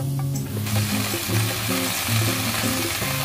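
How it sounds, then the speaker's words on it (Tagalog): Bok choy sizzles as it sautés in hot cooking oil with onion and garlic, a steady, close crackle with no talking and faint music playing underneath. "Pwede na nating ilagay ang ating bok choy."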